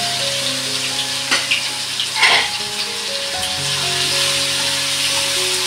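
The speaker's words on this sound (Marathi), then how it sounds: "चांगलं परतून घ्यायचं तेलावर।" Ginger, garlic and chili sizzle in hot oil with cumin and mustard seeds, sautéing for vada pav. Steady frying crackle comes from close by, with a couple of louder bursts as the mix is stirred, under a faint background tone.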